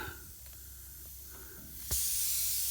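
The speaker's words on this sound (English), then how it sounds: "You can hear that air coming out." A quiet background gives way to a sudden, steady hiss of air escaping from a radial tire as a screw is pulled out, continuing to the end, loud and close.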